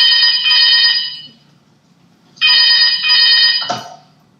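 A telephone ringtone plays two loud, close bursts of bright electronic ringing separated by a pause, in an indoor scene of a Marathi one-act play, with a short thump at the end.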